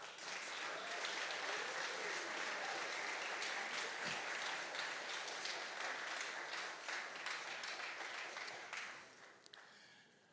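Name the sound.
applause for the Exchange venture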